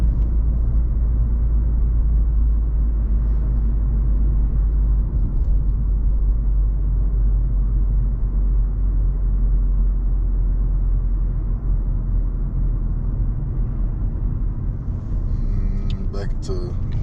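A car with a 5-speed manual gearbox cruising in fourth gear, a steady low engine and road rumble that stays loud and even, with a person speaking over it.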